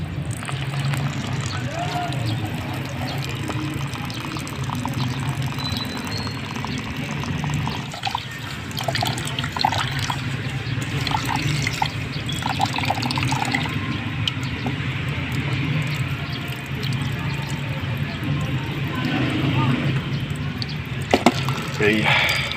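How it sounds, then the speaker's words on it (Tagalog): A tap runs with a weak, thin trickle of water over a steady, noisy room background, continuous for the whole stretch with a few small clatters now and then. "Sobrang hina ng tubig, oh."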